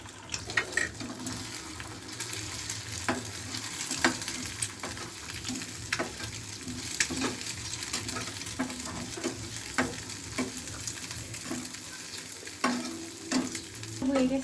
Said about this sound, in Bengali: এখন আমি ডিমটা দিয়ে দেবো, এটাকে ভেজে নেব।